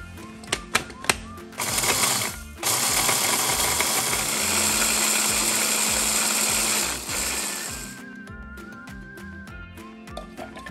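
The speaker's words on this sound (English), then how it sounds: "you're going to place them into a food processor to grind it all down to make your red pepper flakes." Food processor grinding dried cayenne peppers into flakes: a steady whirring, rattling motor drone for several seconds, preceded and followed by short clicks and taps, close and fairly loud with no talking.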